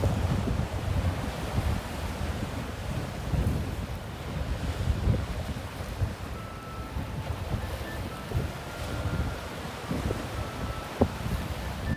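Surf breaking off the end of a jetty on the New Jersey shore, a steady broadband wash of waves with low rumble and gusty wind buffeting the microphone throughout, no talk.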